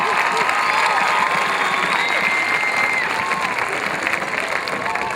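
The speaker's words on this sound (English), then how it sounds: "Let's give him another round of applause." Class of 2013 graduation audience breaking into sustained applause with cheers and whoops, a thick, even roar of clapping from a large crowd throughout.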